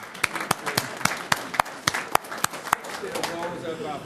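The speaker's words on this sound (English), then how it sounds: "How about a round of applause for..." A handful of people clap at a city council meeting in Portsmouth, Virginia, giving sparse, uneven claps that stand out sharply at first, then thin out into a murmur of room noise and voices.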